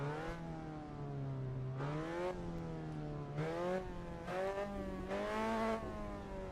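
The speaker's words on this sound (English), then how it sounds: "Engine sounds are okay." A race car engine in Assetto Corsa EVO revs up repeatedly, each loud whining climb broken by a brief drop as it shifts through the gears, heard alone and close.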